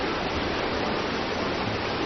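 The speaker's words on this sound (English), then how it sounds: "she earns her name, Nu, meaning rage, for her roaring rapids and the thundering waves" Rapids of the Nu River roar in a dense, steady wash of rushing water, loud and unbroken with no distinct splashes, and no voices.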